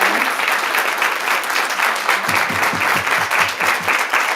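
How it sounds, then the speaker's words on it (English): A panel audience honoring Alaskan women entrepreneurs breaks into a big round of applause, steady and dense clapping that fills the room for several seconds with no voices over it. "one big round of applause before we turn to the audience"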